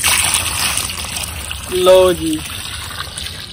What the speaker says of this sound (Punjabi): ਪਾਣੀ ਪਾਤਾ